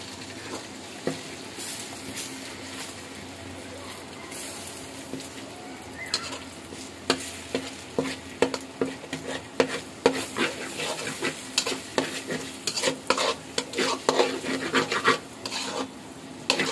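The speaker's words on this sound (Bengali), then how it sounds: "ডিমটাকে ভালো করে বাকি যে মশলাগুলো আছে এগুলোর সাথে মিশাই নিব" Eggs stirred and fried with spices in an oiled pan for chicken fried rice, a continuous sizzle under quick, rhythmic scraping of a spatula that grows busier and louder, close by with no talk.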